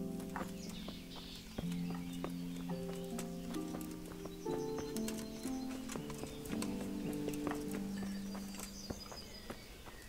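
Horse hooves clip-clop in a steady walking rhythm in the medieval video game Kingdom Come: Deliverance, set against a continuous layered game music score.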